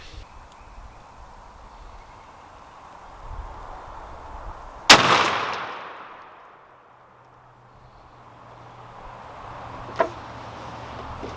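A single loud shotgun blast from a Stoeger M3500 loaded with Longbeard XR shells rings out outdoors, followed by a long fading echo over quiet background, with a faint sharp click later.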